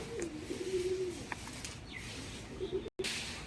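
White Madras pigeons with eye markings coo in soft, low, rolling phrases at close range, a steady hum of background noise beneath and a brief dropout near the end.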